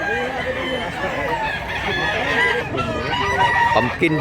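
A bullstag rooster, a fighting cock over a year old, crows loudly and close with clucking fowl around it, while people talk throughout.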